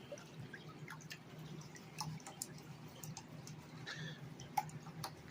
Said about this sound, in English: Shake that stuff right back down into your pan.